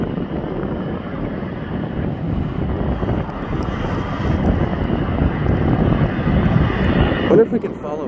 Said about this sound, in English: Is that another fire plane